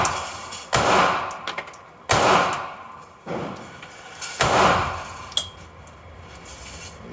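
Handgun shots ring out at an indoor gun range, several sharp loud reports spaced a second or two apart, each with a ringing decay, with no talk over them.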